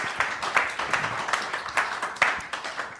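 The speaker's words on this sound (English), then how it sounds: "Please give a round of applause to our panel for their time." An audience claps for a sports discussion panel, fairly close and moderately loud, with distinct individual claps in an uneven rhythm rather than a dense roar.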